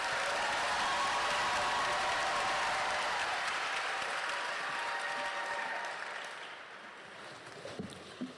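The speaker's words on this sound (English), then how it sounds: "let's give a big round of applause for Cedric Coburn" A graduation audience at a senior ceremony applauds a student speaker, sustained dense clapping that holds for several seconds, then gradually fades into a few scattered claps.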